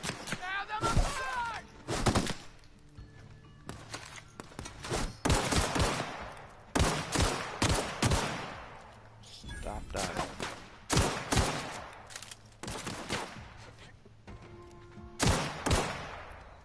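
Repeated bursts of gunfire in The Outer Worlds, loud sharp shots in irregular clusters spread across the stretch, with a person talking over the action between volleys.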